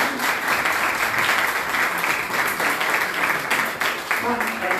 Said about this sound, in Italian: Un applauso a Marco, Cosmo, a tutti i personaggi.